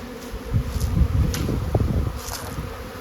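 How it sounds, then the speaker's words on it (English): Bees buzz across the top of a hive box during a fall check of surviving colonies, a steady close hum with scattered louder passes, no talking. "6 of spades, bees right across the box."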